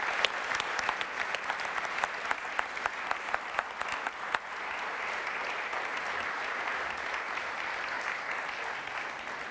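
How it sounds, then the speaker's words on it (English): Conference audience in Bergen gives a panel a sustained round of applause, even dense clapping with a few sharper claps early, continuing steadily to the end. "we should give a big hand of applause to this wonderful panel"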